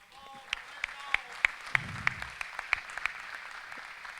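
Sparse, evenly spaced claps from a small audience at a mountain climbers' round table, sharp and distinct rather than a full roar, with a brief voice heard partway through.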